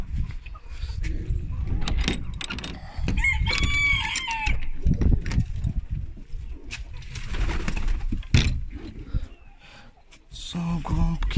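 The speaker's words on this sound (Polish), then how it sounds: "Dobra, wypuścimy sobie te kury jeszcze." Free-ranging chickens being let out in the morning, hens clucking and a rooster crowing loudly up close, with someone talking over much of it.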